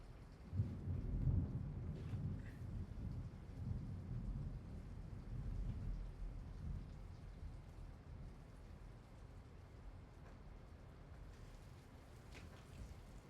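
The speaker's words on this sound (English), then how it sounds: "there's a strong," A thunderstorm outside brings a low, rolling rumble of thunder through the first half, heard through a window over steady rain hiss that continues as the rumble fades.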